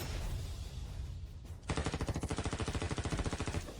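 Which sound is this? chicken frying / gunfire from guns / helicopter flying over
gunfire from guns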